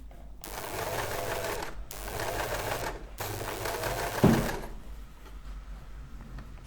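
Sewing machine stitching a seam on a staple-fabric dress, running in steady continuous bursts with short pauses between them, then a single knock before stopping, close and alone.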